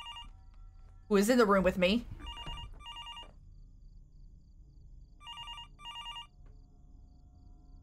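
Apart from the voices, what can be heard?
telephone ringing in video game Fears To Fathom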